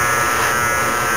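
A Conair Pro electric shaver runs close by with a steady, loud buzzing hum that holds even for about a second, with no talk over it.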